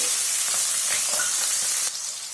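Thinly sliced onion sizzles in hot oil along with a bay leaf, cloves and cinnamon, a loud steady frying hiss throughout with small crackles.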